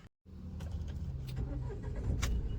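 A vehicle engine is started with the electric self-starter. A short silence gives way to a steady low engine rumble that builds slightly and keeps running, with a few faint clicks on top.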